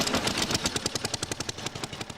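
A wartime generator engine runs steadily, its rapid, regular firing pulses forming a close, rattling chug with no talk over it.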